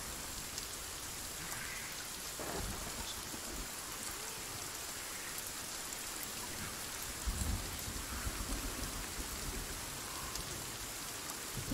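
Steady rainstorm in a video game camp with tents, a dense hiss of rain on surfaces continuing throughout, with a low rumbling swell near the middle that suggests distant thunder.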